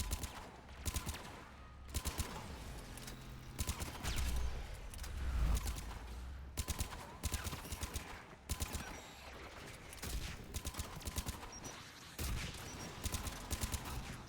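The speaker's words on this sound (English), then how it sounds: "Stop hitting me with rockets!" Video game combat in Mass Effect 3 Legendary Edition on PC: bursts of rapid gunfire and explosive rocket impacts strike in irregular clusters, fairly faint overall, with short pauses between volleys.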